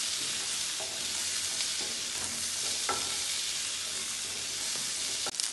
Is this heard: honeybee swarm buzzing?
no